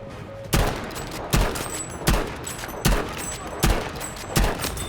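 Battlefield V sniper shots fired without a scope, six sharp loud cracks spaced roughly evenly about a second apart, each trailing into a short echo over a continuous battlefield rumble.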